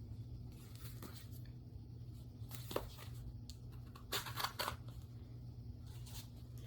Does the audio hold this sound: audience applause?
no